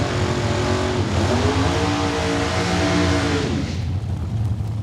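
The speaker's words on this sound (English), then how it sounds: "Jamie Fiesel warming up the rear tires." A drag race car does a burnout to warm its rear tires at Saskatchewan International Raceway, its engine howling steadily at high revs before the pitch drops and the car rolls away, loud and close with no talk.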